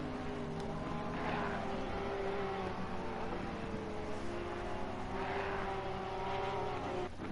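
Race cars in a sim racing game at the Kyalami circuit, among them a Porsche and a BMW, drone steadily with engine tones rising and falling as they pass, a constant mid-level roar without voices.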